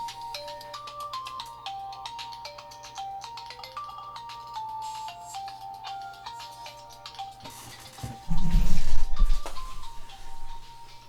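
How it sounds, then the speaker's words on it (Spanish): A mobile phone ringtone plays a repeating electronic melody of stepped tones for about eight seconds, fairly loud, with a steady low hum beneath and a louder burst of handling noise near the end. "me sonó el celular."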